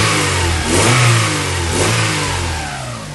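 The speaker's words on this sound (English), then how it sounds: "look how sweet the engine sounds as well" A Honda Accord Type R engine revs up in close, loud blips, rising twice with a steady rumble between them and no talk.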